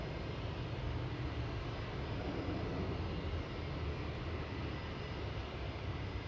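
Boeing 757 airliner passing at Manchester Airport, a continuous broadband engine roar, fairly distant and steady through the whole stretch, with no voices.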